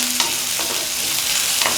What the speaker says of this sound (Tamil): இப்போ ஓரளவுக்கு இந்த வெங்காயம் வந்து வதங்கணும்.